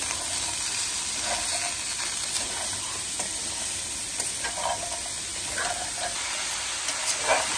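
Radish pieces being sautéed with spices in a pan, a continuous moderate sizzle and hiss with occasional scraping stir sounds, close by and steady, with no talking.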